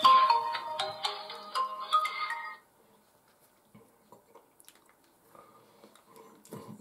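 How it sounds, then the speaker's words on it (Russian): An incoming call sets off a mobile phone ringtone, a loud, bright melodic tune that plays for about two and a half seconds and then cuts off. Only faint small clinks and rustles follow. "Вот кто-то звонит."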